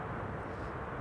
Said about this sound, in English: In the Star Alliance livery, we have United Airlines Flight 909, arriving from Chicago